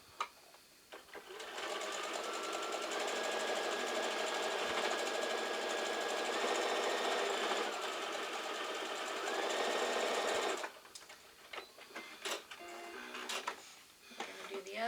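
A sewing machine runs steadily for about ten seconds stitching a quilt block, a loud continuous mechanical hum that stops abruptly, followed by quieter handling clicks and taps.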